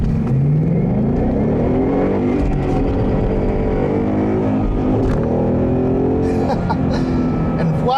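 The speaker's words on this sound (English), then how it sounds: "Wow, is this V8 engine powerful?" A 2015 Ford Mustang GT V8 accelerates hard on Pirelli tires, the engine's loud, rising roar continuous throughout, with a brief voice near the start.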